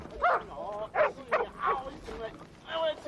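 Several dogs bark in a television drama scene, sharp yips and bow-wows coming in a quick irregular run, close and fairly loud, mixed with whimpering.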